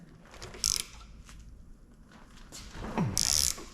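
A ratchet wrench works a shock absorber nut on a 2011 Ford Fiesta sedan, giving two short bursts of bright ratcheting clicks that are separated by quiet shuffling. The sound is close and fairly soft.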